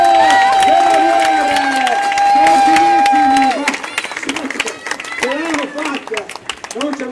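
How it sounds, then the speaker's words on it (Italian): A night-time crowd along a wheelbarrow race course in Castel San Pietro Terme cheers and claps as racers arrive, a loud, lively mix of shouts, whistling and applause with a sustained tone early on, under an excited announcer's voice. "Eccoli qui, un grande applauso!"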